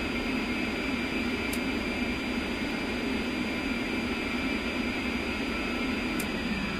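Twin jet engines running steadily at idle on an aircraft after startup, a constant loud roar and whine with no variation, heard from the cockpit.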